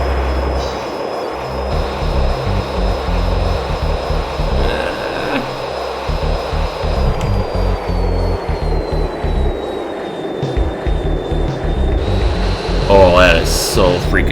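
A combat jet's engine at full throttle in the Fighters Anthology flight game gives a steady, loud droning roar with a high whine held above it for the whole stretch.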